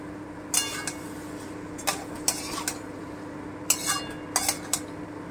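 Boiled, drained dal for egg tadka being sautéed in a pan, with a few sharp metallic scrapes and clinks of a spoon against the pan in scattered bursts over a low steady background hum, no voices.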